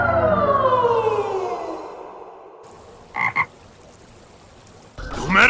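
Anime frogs croak in a brief close double burst midway, set against a fading low drone and swelling background sound with no speech.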